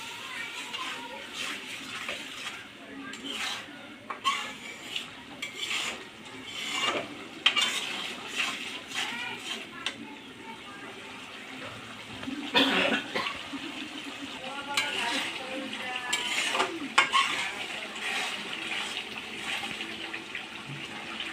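Spice paste for beef liver bhuna is stirred and fried in oil in a pan, with steady scraping, clinking stirs and a soft sizzle running throughout, close by, while a voice talks over it.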